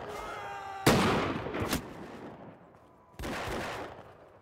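Pistol volleys from line infantry in Mount & Blade II: Bannerlord, Empires of Europe 1700 setting: two loud, sharp bursts of massed shots about two seconds apart, with a smaller crack between them and a quieter battlefield bed underneath.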